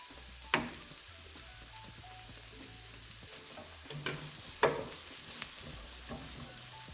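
Minced garlic frying with parboiled potatoes for a veggie hash, a steady close sizzle broken by a few sharp spatula scrapes and knocks against the pan, no voices.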